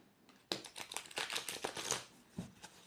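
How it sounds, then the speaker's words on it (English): Tarot cards shuffled by hand up close, a quick burst of riffling and flicking slaps lasting about a second and a half, then a brief final shuffle, quiet and dry. "So let's shuffle these cards and see what the universe has to say."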